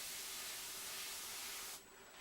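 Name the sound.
spraying onto collectible figure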